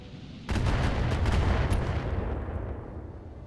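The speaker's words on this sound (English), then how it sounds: "More missiles, crap." Missile salvo in the mech combat game BattleTech: a sudden loud onset of dense, rumbling launches and impacts that roll on for about three seconds before tapering slightly, with no voices.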